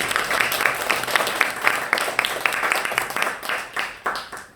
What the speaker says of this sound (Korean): 우리 박수로 하나님께 영광 한번